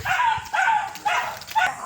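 A dog on a walk outdoors gives a quick series of about four short, high yips at close range, with little else around.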